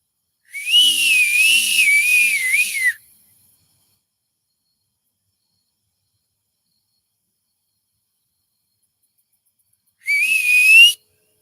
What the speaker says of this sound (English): There's your whistle.